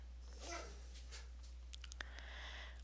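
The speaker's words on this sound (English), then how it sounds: "I have a dog groaning behind me." A dog groans and whimpers faintly in the background of a quiet room under a steady low hum, with a few soft clicks toward the end and no talking.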